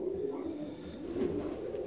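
Fancy ornamental pigeons coo steadily in soft, low, rolling calls that repeat through the clip, close by and continuous, with no talking.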